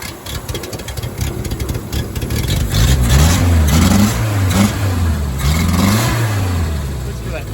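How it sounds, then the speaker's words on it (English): A Renault 10 engine revved a few times from idle, its pitch climbing and dropping in several close rising sweeps over a rough, rattly idle, with people talking alongside. "Give it a bit of a rev."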